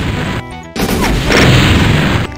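Rocket blasts from the video game Doom 2 roar in heavy, loud bursts, one booming explosion, a brief gap, then a longer rumbling crash close up, with no talking.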